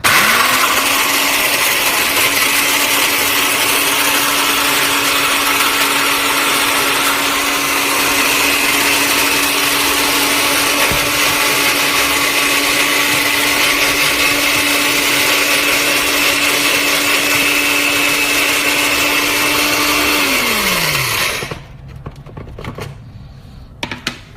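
An old electric grinding machine whirs loudly and continuously as it grinds food for a Kuwaiti machboos meat dish, holding a steady tone for about twenty seconds before winding down abruptly and falling quiet.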